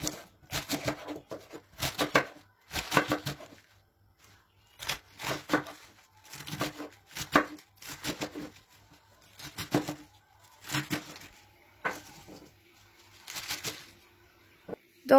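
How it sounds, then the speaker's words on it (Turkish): A knife chopping a large head of cabbage on a cutting board, quick bursts of crisp cuts in rapid clusters separated by short pauses, close and fairly quiet. "İşe lahanamızı gelişi güzel bir şekilde doğramakla başlayalım."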